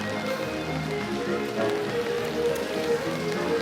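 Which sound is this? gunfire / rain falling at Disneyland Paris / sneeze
rain falling at Disneyland Paris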